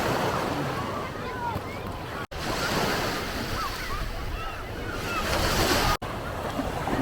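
Waves wash continuously onto the beach at Gdańsk, a dense, hissing surf with gusts of wind buffeting the microphone, loud and close throughout.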